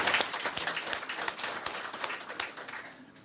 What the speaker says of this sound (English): And if we can give him a round of applause, please